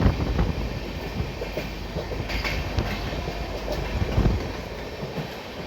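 A Mumbai local commuter train rushes past on the neighboring track, heard from aboard the Mumbai–Madgaon Jan Shatabdi Express: a loud, continuous rumble with rattling wheel clatter and a brief metallic hiss, close and steady, with no voices.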